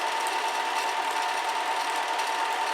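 A film projector runs steadily, carrying film over the sprocket with a continuous mechanical whir and rapid, even clatter, loud and unbroken.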